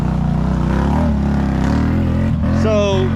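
A two-stroke mini quad engine revs loud and close, its steady buzzing drone running continuously with a brief dip near the end before climbing again in pitch.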